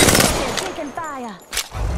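Rapid bursts of automatic gunfire in Apex Legends, sharp cracks at the start and again near the end, with a gliding tonal game effect sweeping through the middle.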